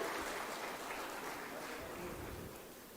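An audience at a state-level Employment Day ceremony in Bhopal gives a dense, steady wash of applause to welcome a woman entrepreneur, heard as a continuous, fairly soft and distant crackle with no pauses.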